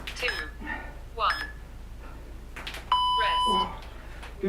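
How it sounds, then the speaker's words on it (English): A mobile phone rings during a home resistance band workout, giving a short, steady electronic tone partway through. A voice is heard speaking around it. "Phone's decided to go off."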